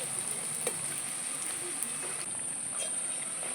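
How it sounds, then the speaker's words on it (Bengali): Fuchka puris fry in hot oil with a steady, even sizzle and occasional soft clinks of stirring, no talk. "কত সুন্দর ভাজা হচ্ছে ফুচকা"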